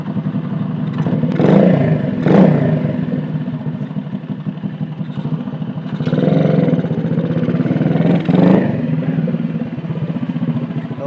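A motorcycle engine runs close by, a steady throbbing rumble with a few louder revs and rattling surges over about eleven seconds, no voices.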